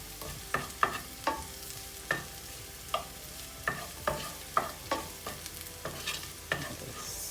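Onions frying in a pan for spicy potatoes, a steady sizzle punctuated by a regular series of sharp spoon scrapes and taps against the pan, close and clear with no talking.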